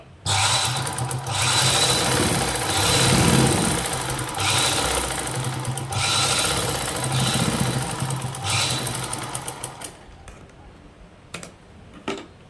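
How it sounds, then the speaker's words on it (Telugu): A sewing machine stitches a straight side seam in fabric, running in long, loud rattling bursts with brief pauses, then slows to a few short stitches before stopping. No one speaks. "స్టిచ్చింగ్ అయితే చేసేద్దాము"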